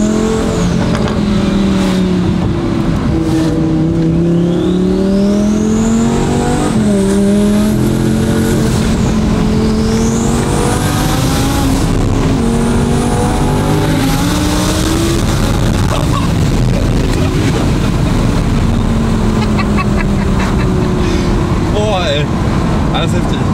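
An Audi R8 Turbo under hard acceleration roars loudly and continuously from inside the car, its engine pitch climbing and dropping through repeated surges, while people talk over it.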